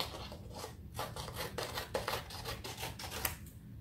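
Scissors snip through a paper strip during a first-grade paper weaving craft, a run of close, crisp cuts over about four seconds with no talking.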